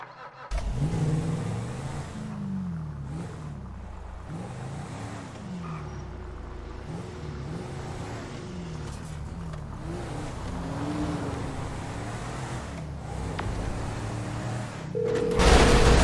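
A car engine in GTA 5 revs up and down repeatedly through rising and falling gear sweeps over a continuous road rumble, swelling louder near the end.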